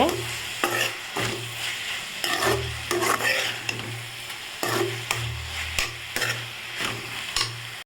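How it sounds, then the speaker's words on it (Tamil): Onions, tomatoes and curry leaves sauté for a Tirunelveli-style pork curry, a low sizzle broken by repeated rhythmic scrapes and knocks of a ladle stirring against the pan. "கொஞ்சமாக நம்ம கருவேப்பிலை சேர்த்துக்கலாங்க சேர்த்து நல்லா வதக்கிக்கோங்க"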